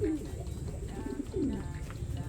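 Racing pigeons coo nearby in two low, rolling calls about a second apart, over a steady background hum.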